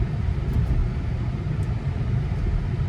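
A Tesla Model 3 steering itself on autopilot, heard from inside as a steady low road rumble and faint motor hum, continuous for the whole stretch with no talking.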